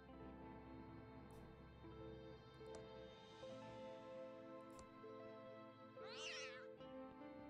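A short cat meow in the video game Thimbleweed Park rises above steady game music near the end, a single bright call over a busy, continuous backdrop.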